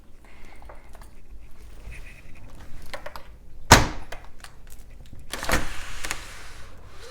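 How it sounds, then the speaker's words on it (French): Door being opened at home to let a cat in: a sharp thunk of the latch or handle, then a sliding swish of the door moving, amid faint handling noises, with no talking. "je vais ouvrir juste la porte à mon chat qui veut rentrer"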